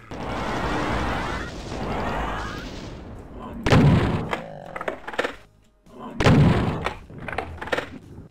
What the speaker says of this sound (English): plasma gun.